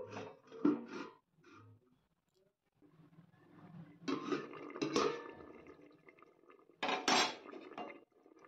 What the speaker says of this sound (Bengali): এবার একটা থালা দিয়ে আমি 10 থেকে 15 মিনিটের জন্য ঢেকে রাখবো।